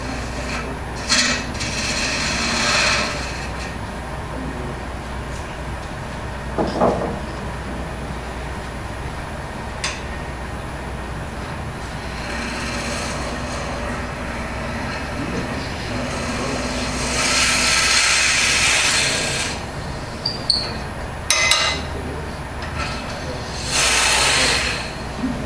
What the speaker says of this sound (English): starts the drill.